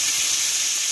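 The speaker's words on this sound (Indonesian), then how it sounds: "Kita tumis sampai dia harum." Dried shrimp sauté in a pan over low heat, giving a brief, loud, steady sizzling hiss close up, with no voices.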